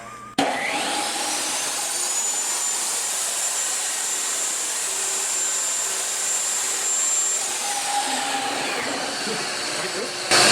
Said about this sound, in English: Vacuum, please. I get the sucky job.